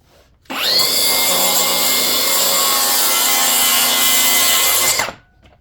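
A track saw spins up and cuts through laminate in one continuous pass, with a loud, steady high whine and buzz for about four and a half seconds before it winds down to quiet.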